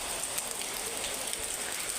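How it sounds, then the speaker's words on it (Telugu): Heavy rain pours down in a dense, unbroken hiss, loud and even throughout, with no voices. "గట్టిగా వానేస్తుంది కదా"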